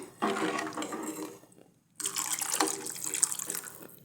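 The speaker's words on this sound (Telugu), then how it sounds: "దీంట్లో ఇంకా వాటర్ వేస్తున్నాను" Water pours into boiled, mashed lentils for sambar in two close splashing streams separated by a brief pause, fairly quiet with no talk.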